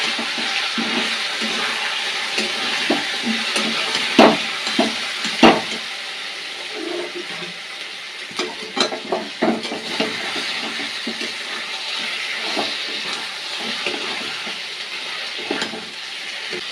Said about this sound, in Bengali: লঙ্কা গুঁড়ো, আমি কষে নেব।